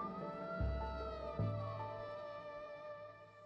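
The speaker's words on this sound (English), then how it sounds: "Despite the sound of the blaring siren" A blaring ambulance siren holds a steady, wailing tone with a couple of low thumps early on, sounding fairly close and continuous with no voices.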